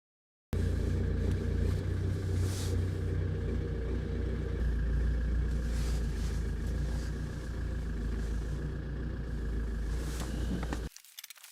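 A Land Rover Defender runs steadily close by as it is turned around, a continuous low engine rumble lasting about ten seconds before cutting off abruptly, with no talk.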